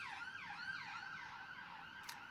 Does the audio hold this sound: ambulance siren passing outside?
yes